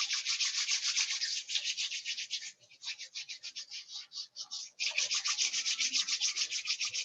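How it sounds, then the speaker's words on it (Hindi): Hands rub briskly over the body in a fast, even back-and-forth swishing, close and steady, pausing briefly midway before resuming. "बॉडी को रब कर लीजिए पहले थोड़ा सा"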